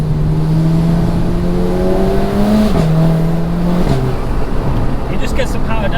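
A VW Golf GTI Edition 30 tuned to 417 bhp with an open differential pulls hard at full throttle on an open road, its engine note climbing steadily through the gears with brief shift dips, heard from inside the cabin with a voice briefly exclaiming.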